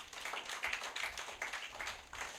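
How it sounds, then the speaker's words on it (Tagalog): Faint, quick clapping from a church congregation praising the Lord during a sermon, soft and distant in a quiet hall. "Palakpak naman po sa Panginoon."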